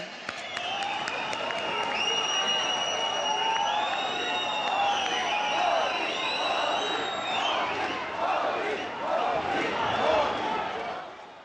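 A large audience claps and cheers without a break at a government launch event at the NESCO exhibition centre in Mumbai. The sustained applause swells and holds, with whistles and whoops on top.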